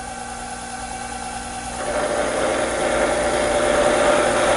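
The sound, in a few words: lathe boring a bore for pie jaws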